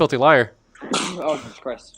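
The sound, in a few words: sneeze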